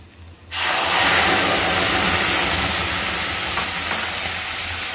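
Tomato paste sizzling loudly in hot oil in a pan for an Indian bhindi gravy, the steady frying hiss starting abruptly after a brief quiet moment and continuing unbroken to the end.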